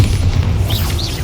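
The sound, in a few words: Bombarda spell explosion in the Hogwarts Legacy video game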